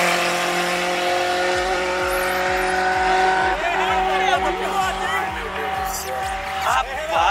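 A car corners hard with tires squealing and engine revving, near and loud, sharp squeals layered over a pulsing engine note, while people talk over it.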